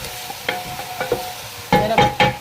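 Onion sautéing and being stirred in a pan for a kabsa with vegetables, giving soft scraping stirs and bursts of sizzling that grow louder toward the end, with no talking.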